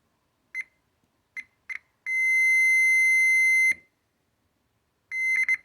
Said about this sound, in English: we should get an audible beep